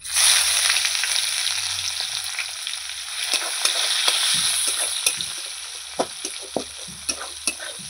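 Onion fries in hot oil in a pan that already holds a dried red chilli and a bay leaf. A loud, dense sizzle at the start eases off, then sharp spatula knocks and scrapes follow, close up and without speech.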